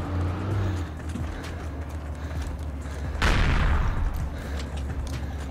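Gunfire and explosions in the WWII shooter Heroes & Generals during a tank battle, with a rumbling engine bed and a loud sharp blast around the middle followed by noisy crackling.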